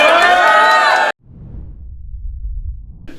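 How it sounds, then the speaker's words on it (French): A rap battle crowd at a gathering roars and cheers loudly for about a second, then cuts off to low rumbling murmur and scattered noise. "Faites du bruit, le rack! Faites du bruit!"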